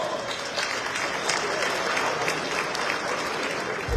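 Audience applause at an Atlantic City mayor's 2024 forecast address, a dense, sustained round of clapping from a sizable crowd, steady and fairly loud for several seconds.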